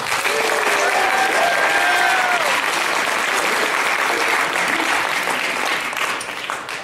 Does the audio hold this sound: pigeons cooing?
no